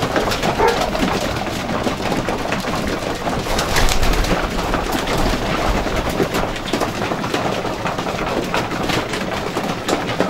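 Homing pigeons in a loft coo and flutter in a dense, steady flock murmur at close range. A dog's bark or whimper may sit faintly in the mix.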